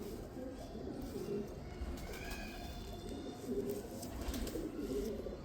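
Lal Pari and Salara Teddy pigeons coo softly and steadily throughout, low murmuring calls layered close together with a faint background hum.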